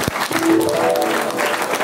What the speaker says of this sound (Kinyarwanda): Ni ukuri ndabashimiye mu bakomera amashyi Imana ibahe umugisha.